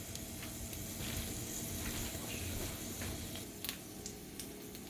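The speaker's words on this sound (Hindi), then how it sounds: "इन्हें एक पैन में हम डाल देंगे ताकि थोड़े से ये जो ऑयल है इसमें वो बिल्कुल ड्राई हो जाए" Bitter gourd (karela) pieces sizzle and fry in a pan as leftover oil cooks off, a steady close crackling hiss with scattered small pops throughout.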